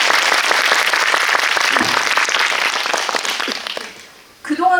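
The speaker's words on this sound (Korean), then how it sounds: "멋있다고 생각하시면 박수 한번 부탁드릴게요" Audience applause at a Korean film screening and special guest talk, loud sustained clapping from a crowd that fades out after about four seconds before a voice resumes.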